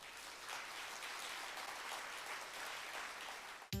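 Lecture audience applauding as a physics professor takes the stage, a steady, even wash of clapping held at moderate level throughout, fairly distant, cut off abruptly at the end.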